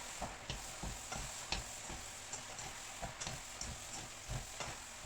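Beef and shrimp noodles stir-fry in a pan, a soft steady sizzle broken by regular scraping and tapping strokes of the utensil, fairly quiet and close with no talking.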